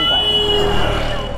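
A four-wheeled car passes on Jessore Road near Chandpara, a close, loud engine and road roar with a tonal whine that swells and fades over a second or so, with people talking over it.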